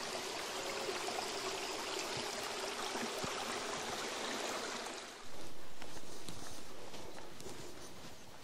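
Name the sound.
babbling stream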